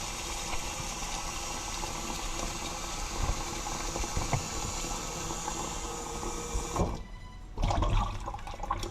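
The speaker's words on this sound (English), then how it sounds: "we are going to strain off this water." Water pours steadily from a pot as vinegar water is strained off cleaned chicken in a home kitchen, a continuous close gushing that stops near the end, then gurgles and splashes briefly.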